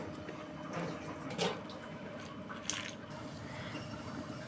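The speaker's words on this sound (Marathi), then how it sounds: "असा हा गोळा भिजवून झालाय." Wheat dough with a little salt being kneaded by hand, giving soft, wet squishing and slapping sounds that come close and without talk.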